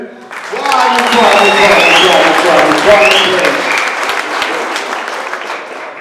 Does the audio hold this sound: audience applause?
yes